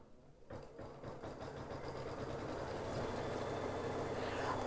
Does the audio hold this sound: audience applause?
no